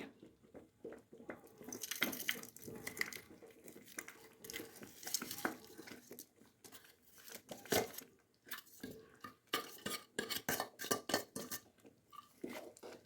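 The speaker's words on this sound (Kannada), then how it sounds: "ಬೆಲ್ಲನ ಹಾಕಿಬಿಟ್ಟು ನೀಟಾಗಿ ಇದರೊಳಗೆ ಮಿಕ್ಸ್ ಮಾಡಬೇಕು." Clinking and scraping of a spoon against a pot as jaggery is stirred into thick cooked semolina, with irregular knocks and soft wet sounds throughout, close by.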